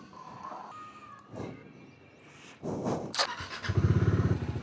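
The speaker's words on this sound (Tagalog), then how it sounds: "Ilabas ko lang yung motor." A motorcycle is moved out with shuffling and a couple of thumps, then its engine starts and settles into a loud, close, pulsing idle.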